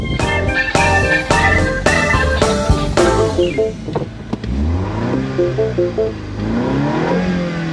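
A 2015 MINI Cooper S climbs the Loveland Pass road in the Colorado Rocky Mountains. Its engine revs up and down through repeated gear changes, close and loud, with no voices.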